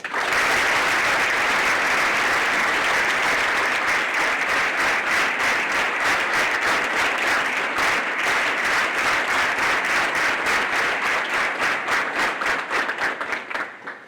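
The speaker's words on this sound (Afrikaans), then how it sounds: "vir Dr. Uys 'n lekker hande klap" An audience at a founders' day ceremony gives loud, sustained applause lasting well over ten seconds, close and full, with the clapping falling into a steadier rhythm before it tapers off at the end.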